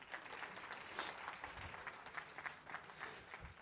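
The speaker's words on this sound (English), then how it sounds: "I think we want a round of applause for Amir Khan." Audience applause at an interaction event, a steady wash of clapping hands that holds evenly for a few seconds, fairly faint and without voices over it.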